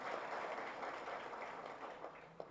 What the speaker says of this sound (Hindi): एक बार जोरदार तालियों के साथ अभिनंदन वंदन स्वागत